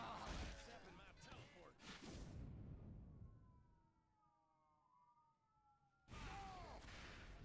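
Faint wailing sirens sweep up and down in the distance, rising and falling between stretches of conversation that cover the start and end.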